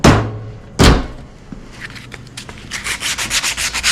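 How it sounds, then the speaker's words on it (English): Sandpaper scrapes on parts of a Ford 300 wood chipper, starting with two loud strokes and then turning into a quicker run of rhythmic rubbing. "I'm gonna get some sandpaper here. And I'm gonna sand things that don't need to be sanded."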